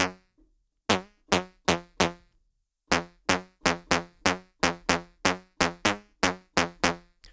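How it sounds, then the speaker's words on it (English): Anxious, a tech house synth pluck preset, fires a repeating pattern of sharp, bright plucks with quick decays, first four evenly spaced hits, a pause, then a longer steady rhythmic sequence, heard alone without talk. "which is called Anxious and sounds like this."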